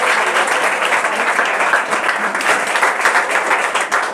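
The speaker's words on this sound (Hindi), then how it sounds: "एक बार जोरदार ताली कीजिए।" Loud, dense audience applause fills the room at a school prize distribution ceremony honouring certificate recipients after Bihar board matriculation exams, sustained steadily throughout with no pause.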